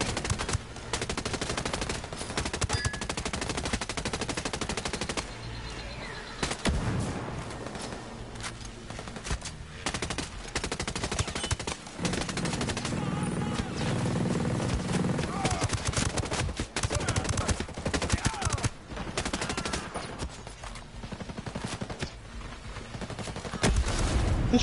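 Bursts of automatic machine gun fire in the video game Ghost Recon Breakpoint, rapid rattling volleys repeating throughout with short gaps, loud and close, with players occasionally talking underneath.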